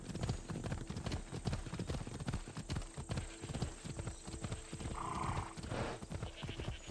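Rapid horse hooves clip-clop steadily and loudly throughout in Assassin's Creed, a galloping rhythm close by, with a brief whinny partway through.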